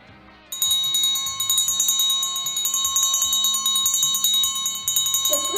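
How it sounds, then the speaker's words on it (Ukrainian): An electric school bell rings for the first bell of the school year at a lyceum, starting abruptly and ringing continuously, loud and insistent, for several seconds. "Право подати перший дзвінок у цьому навчальному році, вдається директору ліцею Валентині Олександрівні."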